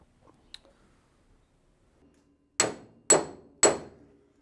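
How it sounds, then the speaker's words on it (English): A hammer strikes sheet metal over a dolly on a Porsche 911 restomod wide-body flare, three sharp ringing blows about half a second apart after a quiet lead-in, each with a bright metallic ring that decays quickly. "So this technique is known as hammer on Dolly."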